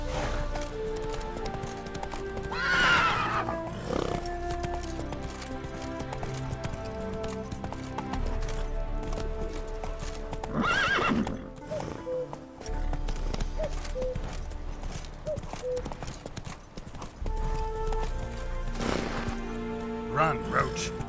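Roach, the horse in The Witcher 3, gallops with rapid rhythmic hoofbeats and lets out loud whinnies over game music, while a voice speaks at intervals.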